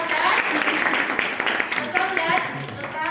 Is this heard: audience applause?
yes